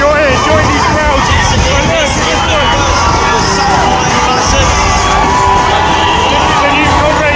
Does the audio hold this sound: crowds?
yes